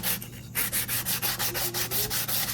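Sandpaper works over a wooden kitchen utensil in about a dozen brisk, even back-and-forth strokes, close and distinct, with no one speaking.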